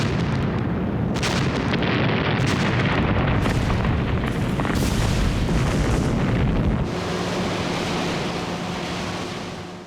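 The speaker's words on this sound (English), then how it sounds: "For a week, the atolls were bombed by carrier-based aircraft." Heavy explosions from carrier-aircraft bombing of Pacific atolls in 1943, loud deep booms rolling one into another for several seconds before easing into a fading rumble.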